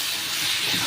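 Vetkol stems sizzling in a pan with salt, turmeric and a little sugar, a steady close hiss of frying running evenly through the short moment.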